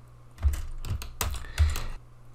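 Typing on a computer keyboard while writing Scheme code: a quick run of close, crisp key clicks in several bursts, with no talk.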